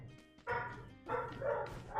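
A pet dog barks in a few sharp bursts at close range, with a short gap before a run of rapid, loud barks, in an indoor room with no talking.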